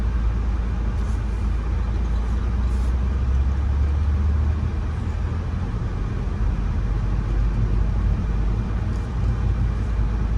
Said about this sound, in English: Here goes the Mack truck.